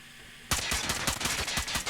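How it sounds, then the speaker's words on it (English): M13 assault rifle hip-fired in a mobile shooter game, a loud sustained burst of rapid automatic shots that starts abruptly after a brief quiet moment. "As you can see, the hip fire is quite lackluster"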